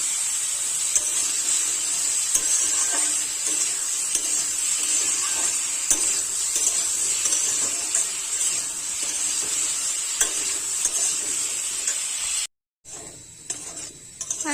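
Steady loud sizzling of potatoes frying in a pan for a village-style Bengali kuchia fish curry, with occasional stirring scrapes throughout, then a brief cut and quieter frying at the end.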